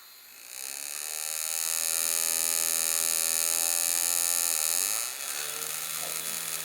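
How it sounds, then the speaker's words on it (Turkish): A small 5-volt DC motor driven from an Arduino whines steadily at high pitch, spinning up, holding a loud even buzz for several seconds, then dropping in speed near the end as the load changes. "Şimdi evet gördüğünüz gibi motorum çalışıyor."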